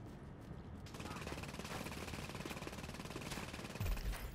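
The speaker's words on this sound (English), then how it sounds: "Who's shooting?" Bursts of automatic gunfire crackle through the Dark Zone in Tom Clancy's The Division, sounding as repeated rapid shots over a busy game soundscape, with another volley landing near the end.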